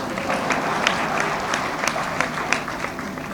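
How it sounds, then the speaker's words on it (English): An audience at the FICCI FLO Women Achievers Awards 2024-25 grand finale applauds steadily, a dense wash of clapping with a few sharper claps standing out. "So a big round of applause for him."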